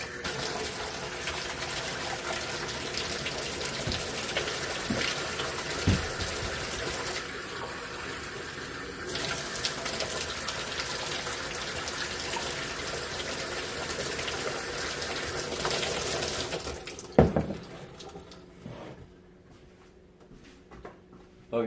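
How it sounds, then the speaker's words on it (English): Tap water gushing steadily into a cup for chicken being seasoned for a keto BBQ pressure-cooker recipe, a continuous loud pour for most of the span that cuts off abruptly near the end, followed by quieter kitchen handling. "There's your cup of water"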